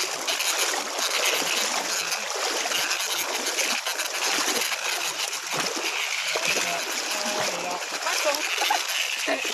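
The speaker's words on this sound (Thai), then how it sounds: "อันนี้เป็นแม่น้ำครับเราข้ามแม่น้ำไป" River water splashes and sloshes continuously during a night crossing on a cicada hunt, moderately loud and close, with voices talking over it.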